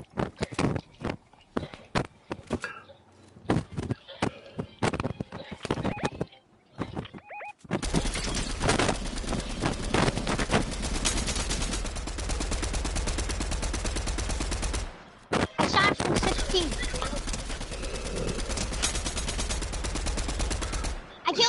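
Gunfire in a video game shootout against a sniper: bursts of shots crackle through the first seconds, then dense, continuous firing fills most of the clip with a brief pause midway, loud and up close, with voices over parts.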